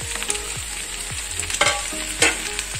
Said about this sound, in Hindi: आलू का जो मिक्सर हम बनाएंगे उसे अच्छे से हम इसमें मिक्स करना है